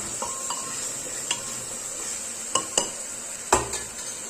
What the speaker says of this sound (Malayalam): അതിനുശേഷം നന്നായി മിക്സ് ആക്കുക.